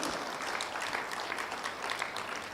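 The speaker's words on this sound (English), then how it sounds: "I would like to ask all of you to give a warm round of applause" Warm round of applause from the audience at a national social protection dialogue event, dense steady clapping throughout with no voices over it.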